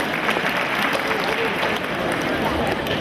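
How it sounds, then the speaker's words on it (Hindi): A crowd at a Hindu spiritual discourse claps vigorously in a thick, even wash of applause that holds steady at full strength for the whole stretch. "एक बार जोरदार तालियां इन लोगों के लिए"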